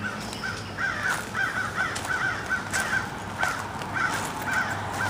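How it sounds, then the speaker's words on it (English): Crows caw repeatedly in short, regular bursts outdoors, with steady faint background noise. "Crows are very noisy."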